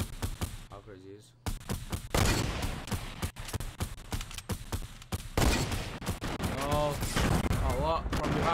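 Hunting rifle shots and other gunfire in Fortnite Battle Royale, a rapid string of sharp cracks with a few louder blasts, mixed with players talking throughout.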